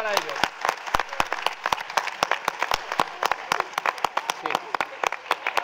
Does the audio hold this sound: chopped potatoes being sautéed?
no